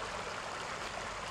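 Water trickles faintly around a small island in a soft, steady wash with no one talking.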